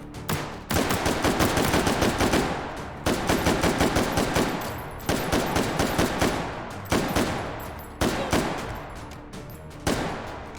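Rapid automatic gunfire in the VR shooter H3VR Take & Hold, loud close bursts of several rounds each repeating in a steady rhythm of about five volleys, with no talking.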